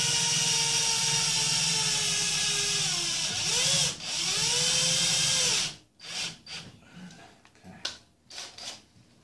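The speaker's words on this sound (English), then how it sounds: "So I'm going to drill a hole, and I'm going to try to get it directly across from that pin." A power drill whines steadily at high speed while boring a hole for a pop rivet in a metal car seat frame, its pitch dipping briefly under load, then cutting out into a few scattered handling clatters.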